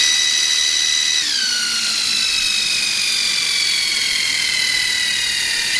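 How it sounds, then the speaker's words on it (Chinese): A cordless screwdriver running off a Durofix 21 V battery on test, a continuous high whine whose pitch drops and then slowly sags further as it runs, close and alone. "那接下來我們插一台起子機來做簡單的測試"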